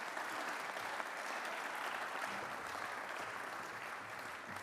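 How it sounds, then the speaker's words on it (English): Audience applause at a chefs' general assembly, continuous, even clapping from a sizable crowd throughout, moderately distant and without talk. "applause, please"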